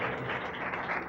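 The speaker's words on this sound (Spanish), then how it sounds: "Su tiempo, lo recibimos con un aplauso" Auditorium crowd at a televised church service applauds, a soft, dense wash of many hands clapping that runs steadily through the short moment without speech.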